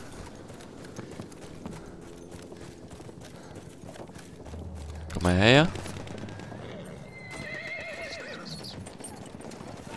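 A horse in the Battlefield 1 video game lets out a loud neigh midway, with hoofbeats and distant battlefield gunfire around it and someone speaking briefly.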